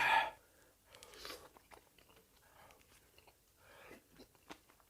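Close, quiet chewing of cheese-filled tteokbokki rice cakes with mozzarella, soft sticky bites and a few crunches in a short irregular rhythm.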